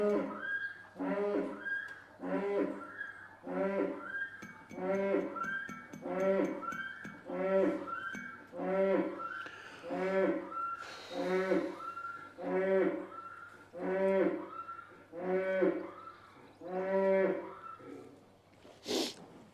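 A cow moos loudly and repeatedly in a farm setting, about a dozen long, harmonic calls following one another in a steady rhythm, close to the listener and alone, with no talk.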